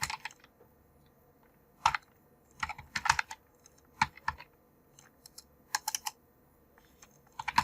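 Bursts of typing on a computer keyboard while writing Python code, quick clusters of key clicks separated by short pauses, close and fairly quiet with no talk.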